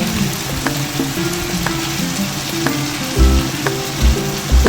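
Cream heating in a pan before salmon goes in, for a creamy butter garlic salmon, sizzling and crackling steadily throughout, with a few louder low bubbling pops near the end.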